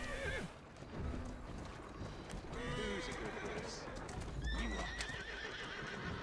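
Horse neighing and galloping hooves in Assassin's Creed Syndicate, the whinnies and steady clip-clop layered over busy game sound with a voice chattering along.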